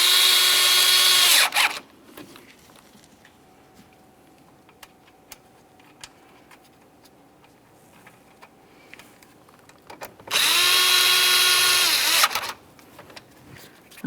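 A power tool drives a screw into a front parking sensor mount on a GMC Acadia. Two loud, close whirring bursts of about two seconds each are separated by a quiet stretch of faint handling noise.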